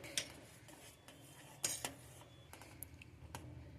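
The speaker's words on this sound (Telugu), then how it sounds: "ఇలా ఉడుకు పట్టిన తర్వాత కలుపుకుంటూ ఉడికించుకోవాలి" A spoon scrapes and clinks against a pot while a boiling homemade hair gel of seeds is stirred, giving a few sharp metallic taps over a quiet simmering background, faint and close, with no voices.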